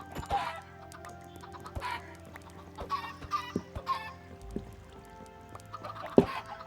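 Chickens in the Minecraft video game cluck in short scattered bursts, with a few soft game clicks and thuds between them, fairly quiet and with no talk.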